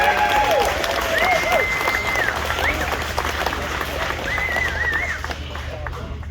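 A crowd at the Perth Motorplex drag strip applauds racer Casey McClure, continuous clapping and cheering under the steady rumble of the venue, with a voice speaking over it before gradually fading.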